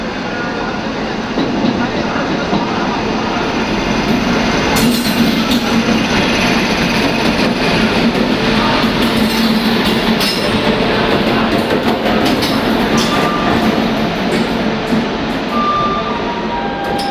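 Duronto Express train 12268, running Hapa to Mumbai Central, arriving at a station platform: a loud continuous rumble of wheels and passing coaches with rail clatter and occasional squeals, while station voices murmur underneath.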